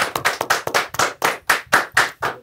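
Clapping in a talk show studio: a small group claps in a steady, rhythmic beat of distinct, close hand claps, about four per second, with no talk over it.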